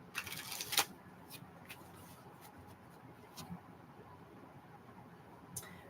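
A deck of tarot cards is shuffled during a reading, with a brief burst of riffling and card flutter near the start, then faint scattered taps and rustles over a quiet background.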